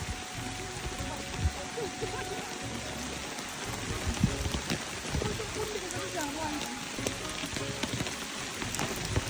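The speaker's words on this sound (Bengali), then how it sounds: "বৃষ্টি মানে কি প্রচন্ড বৃষ্টি নামছে।" Heavy rain pouring at Ludhua Tea Garden in Tripura, a dense continuous roar of drops drumming on surfaces and an umbrella, loud and steady throughout.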